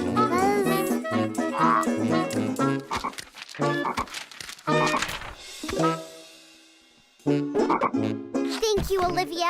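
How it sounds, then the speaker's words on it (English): Cartoon frog croaking in a children's animated episode featuring a pig, a series of bouncy, rhythmic croaks at close range with a brief pause near the middle, mixed with musical, voice-like tones. "Francine, it's just a frog."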